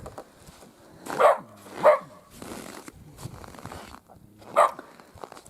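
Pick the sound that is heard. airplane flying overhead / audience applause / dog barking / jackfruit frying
dog barking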